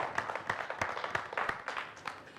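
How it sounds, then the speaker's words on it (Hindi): Audience applause at a live stage show breaks out as a burst of dense, fairly loud clapping from many hands, with sharp claps scattered irregularly through a steady patter and no talk over it. "नीलाभ मिश्रा जी के लिए जोरदार तालियां।"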